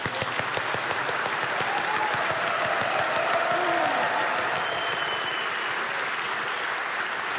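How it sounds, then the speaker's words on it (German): Studio audience at a New Year's Eve comedy show applauding steadily throughout, a dense sustained clatter of many hands at even loudness with no voices over it. "Applaus"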